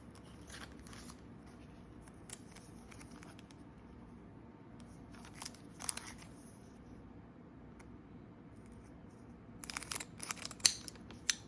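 Scissors snipping open Pokemon booster packs, quiet crisp cutting bursts in small clusters near the start, middle and end, with faint rustling between them.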